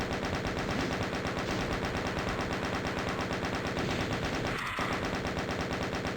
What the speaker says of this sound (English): So why don't we go ahead with the Chain Gun, I think is an effective weapon here.